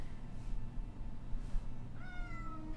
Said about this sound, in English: we're joined by a cat